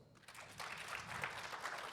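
A live podcast audience at a fan convention breaks into brief applause, faint and distant, swelling after a quiet start and continuing as an even patter of many hands.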